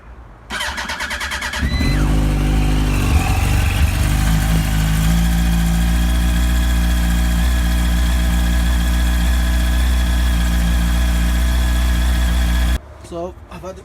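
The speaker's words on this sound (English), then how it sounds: "So what I'm going to do is quickly start her up and see if anything dramatic happens." A Yamaha R1 motorcycle engine cranks and catches, then settles into a steady, loud idle that holds for several seconds before cutting off near the end.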